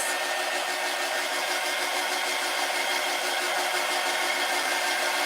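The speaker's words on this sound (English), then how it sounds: "So I'm going to take the dryer to this really quick" A hair dryer blows steadily on a DIY metal caddy, a constant close, loud whooshing hiss with no pauses and no voices.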